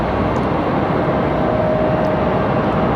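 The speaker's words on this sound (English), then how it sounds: "A321 on the way out too" An Airbus A321 jet departs Raleigh-Durham airport, a steady, loud broadband roar holding level throughout with a faint whine running underneath.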